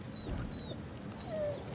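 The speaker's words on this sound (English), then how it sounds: "Is that the dog I can hear?" A dog whimpers and yips softly inside a farmhouse in the horror game The Devil in Me. There are a few thin, high, wavering whines at moderate distance over low background ambience, and no one speaks.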